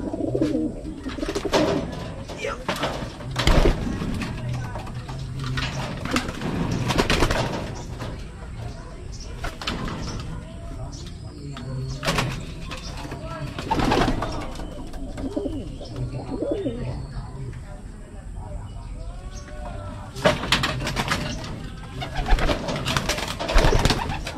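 Racing pigeons coo repeatedly at close range, with soft rhythmic calls, scattered wing flutters and clattering knocks around them.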